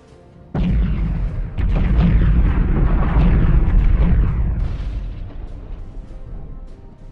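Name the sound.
explosions and cannon fire in Homeworld 2 video game battle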